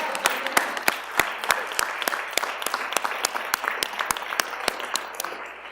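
Scattered applause for young people from TAF at a Chicago Public Schools Board of Education meeting, a modest crowd clapping in sharp, distinct claps that thin out toward the end.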